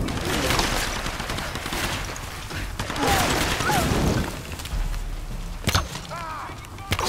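Gunfire from shooting in Tomb Raider 2015, with bursts and single cracks scattered across a busy, dense mix of in-game noise, a few sharp loud reports standing out near the end.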